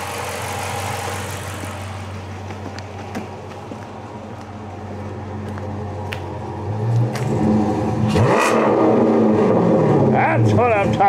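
A Hemi V8 engine idles with a low, even rumble, then the throttle is hit and it revs up loudly and roughly before falling back. The sound is close, with some talk over it.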